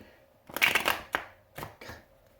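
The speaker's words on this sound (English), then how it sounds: "Good shuffle, Danny." A deck of playing cards shuffled by hand: a quick riffle burst followed by a few short crisp snaps and taps, close and fairly quiet, with no talk.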